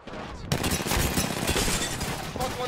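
Rapid, continuous bursts of automatic gunfire in the video game Apex Legends, in a ranked 3v3 Arenas match, starting abruptly and staying loud and close, with a player's voice talking under the shooting.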